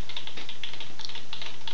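Rapid keystrokes on a computer keyboard, a close, steady run of clicks over a faint constant hum with no voice.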